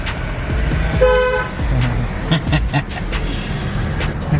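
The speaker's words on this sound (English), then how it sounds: "How does the horn sound?" A BMW car horn honks once in a short harmonic blast, followed by voices and light thuds in a noisy setting at The Grove in Los Angeles.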